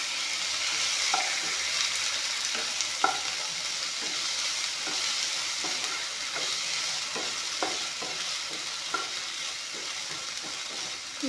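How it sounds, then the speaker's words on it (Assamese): Crushed ginger with onion and salt sizzles steadily in a hot pan, with a utensil scraping and stirring at a fairly regular rhythm throughout, close and unaccompanied by speech. "অলপমান আদাখিনি ভাজি ল'ম।"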